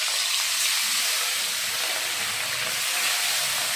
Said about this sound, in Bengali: এখন ভাজা হবে।